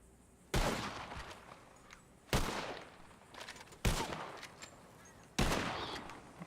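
Video game gunfire aimed at flying birds: four loud, separate shots spaced about 1.5 seconds apart, each with a ringing decay.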